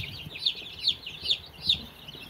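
A golden laced hen clucks in a short rhythmic series of four soft, close calls over quiet background rustle.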